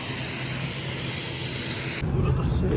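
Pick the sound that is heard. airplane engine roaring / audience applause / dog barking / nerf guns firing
airplane engine roaring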